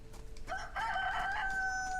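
A chicken in the survival video game DayZ gives a short series of nasal, rising clucks and a drawn-out crowing call, fairly close and alone over faint background noise.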